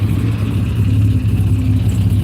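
Aston Martin engine at a busy car show, a steady low idling rumble with a slight rev, close and loud throughout.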